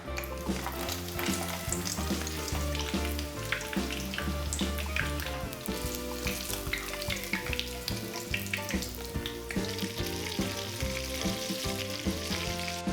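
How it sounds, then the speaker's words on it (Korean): Cabbage frying in 100 ml of cooking oil in a frying pan, a steady dense sizzle and crackle running continuously and loud at close range, with no talk. "프라이팬에 식용유 100ml 넣고 튀겨주시면 됩니다."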